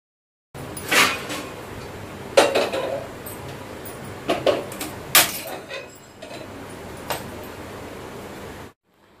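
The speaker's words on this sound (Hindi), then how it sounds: "यहाँ पर मैंने चावल ले लिए हैं और उसके बाद मैं इन्हें अच्छे से धो लेती हूँ" Rice being washed in a pot at home: irregular clinks and sloshing scrapes of grains and water against metal, close and moderately loud, in several short bursts with quiet gaps between.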